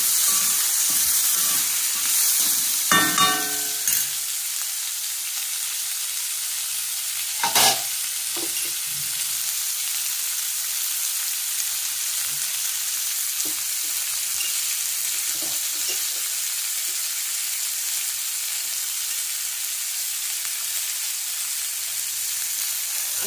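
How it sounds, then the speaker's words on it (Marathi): Bitter gourd and onions fry in a pan with a steady loud sizzle and hiss, broken early on by a few scraping stirs of a spatula, then settling into continuous frying. "कारलं भाजून घेतलेलं आहे। जरा कांद्याचा कलर बदलेपर्यंत भाजू द्यायचा।"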